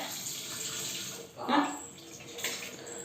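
Dishes being washed under a running tap at home: steady water flow fills the clip, with a brief louder splash or clatter midway, close and with no talk.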